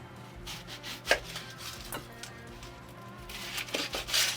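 A knife chops onion on a cutting board during a farm cooking session, giving a few sharp, irregular chopping strikes that sit close to the listener over a low background hum.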